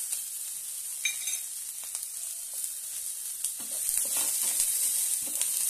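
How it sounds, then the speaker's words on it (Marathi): Ginger, garlic and cashews sauté in a pan, making a bright, steady sizzle with occasional stirring scrapes, growing a bit louder toward the end, with no talking. "छानपैकी परतून घेऊया"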